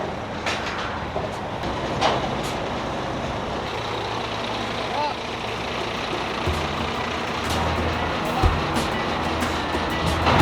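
A car carrier truck for hauling a Tesla stands by in an outdoor loading area, its low steady engine rumble and traffic-like wash continuing throughout with a brief thump near the end.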